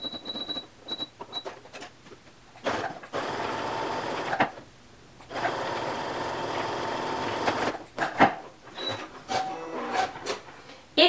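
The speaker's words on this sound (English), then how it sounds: "do a basting stitch to baste these two edges together" A sewing machine runs a basting stitch through fleece and leather in bursts of rapid mechanical whirring, starting and stopping several times with clicks and handling sounds between runs.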